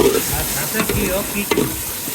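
Shrimp korma sizzles and is stirred in a pan: a steady, close frying hiss broken by scraping stir strokes, with no talking.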